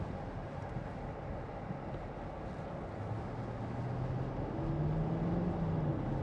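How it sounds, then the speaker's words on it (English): Diesel engine of a 2014 Porsche Cayenne 4.2 TD S Tiptronic S 4WD running while driving, a low steady drone heard from inside the cabin, swelling slightly in pitch toward the end. "That sound of the engine's beautiful."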